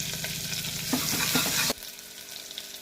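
Chopped onion fries in hot oil with a little ghee, a loud, busy sizzle with stirring scrapes that cuts off abruptly partway, leaving a faint low hiss.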